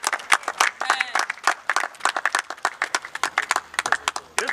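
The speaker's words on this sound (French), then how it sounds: "Est-ce qu'on peut acclamer bien pour la parole de Dieu?" A church congregation claps and cheers together, a dense, lively burst of applause filling the room for several seconds, with voices mixed into the crowd noise.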